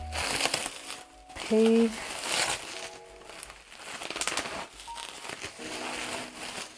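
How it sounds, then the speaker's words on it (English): Bubble wrap crinkles and crackles in irregular bursts as a package is unboxed, with someone talking over the handling. "oh, there's a lot of bubble wrap."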